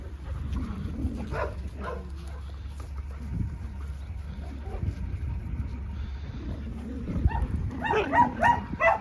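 Dogs play-fight nearby with low growls and a few short barks, rising toward the end over a low outdoor rumble.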